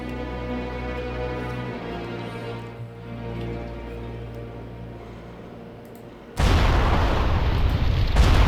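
Explosive barrels shot and blowing up in World of Warcraft, a sudden loud broadband blast erupting after a stretch of low droning ambience and then rumbling on.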